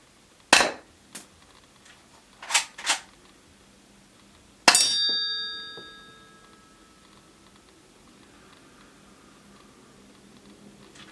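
UK Arms P2400 airsoft pistol firing: a handful of sharp, snappy shots, one single then a quick pair, followed by a loud metallic clang that rings on and decays over a couple of seconds, in an otherwise quiet space.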